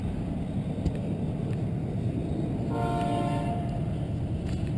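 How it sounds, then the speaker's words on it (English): Distant train passing near a field, a low continuous rumble with a brief horn-like tonal sound rising midway, fairly faint and steady. "There's the train, guys."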